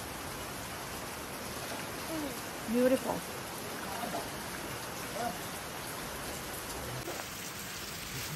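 Steady rain falls on a mountain during a climb, a continuous broadband hiss close around the listener, with a brief spoken word partway through.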